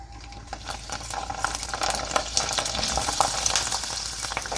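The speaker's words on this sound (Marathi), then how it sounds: "आता आपण तळून घेऊया आता मी पापड तेलामध्ये सोडते" Sun-dried sago papad dropped into hot oil bubble and crackle with a busy, close frying sizzle that swells slightly as it puffs, with no voices.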